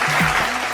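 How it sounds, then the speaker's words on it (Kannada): Audience clapping at a singing reality show on a stage, a brief dense burst of loud applause with a faint voice underneath. "ಓಕೆ, ಬರ್ಲಿ ಜೋರಾದ ಚಪ್ಪಾಳೆ."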